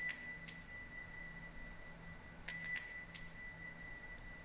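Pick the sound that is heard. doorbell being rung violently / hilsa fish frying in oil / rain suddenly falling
doorbell being rung violently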